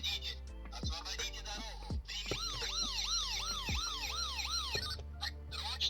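A toy Volga model car siren wails in repeated rising-and-falling cycles, loud and close, with a few brief clicks and knocks before it starts.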